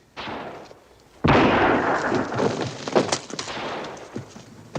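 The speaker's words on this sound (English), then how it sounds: "I don't think you'll ever hit any of them with that cannon" A cannon fires in an Audie Murphy western, a sudden loud blast whose roar and rumble decay over several seconds, with scattered smaller cracks and thuds following.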